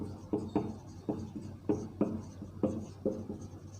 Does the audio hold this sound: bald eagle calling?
no